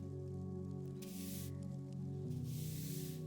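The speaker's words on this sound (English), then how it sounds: "You can hear the sound of a broom on a doorstep" A broom sweeps a cottage doorstep in a quiet village, two separate brushy swishes, one short and one longer, over a soft, steady musical backdrop.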